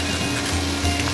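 Sausages for Dublin coddle brown in a pan, giving a steady, close sizzle of frying fat that holds evenly through a brief moment with no talk.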